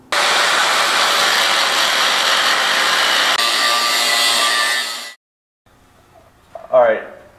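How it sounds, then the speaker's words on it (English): A power tool cuts into an automotive torque converter, a loud, steady, harsh grinding whine lasting about five seconds before stopping abruptly, followed by quiet and then a brief rising mechanical whir. "we're going to cut apart this torque converter so we can tell you guys how one works"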